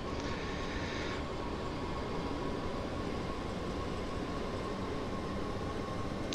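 A BR 425 electric multiple unit runs in the Train Sim World 2 game, giving a steady, even rumble of rolling wheels and motor hum throughout, with no voices.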